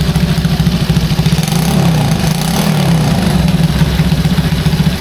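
A Honda C200 motorcycle engine idles steadily up close, a continuous low, slightly lumpy putter with an even pulse and no voices.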